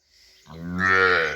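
A single cattle calf gives one close, loud moo that starts soft and swells into a full bellowing call lasting over a second.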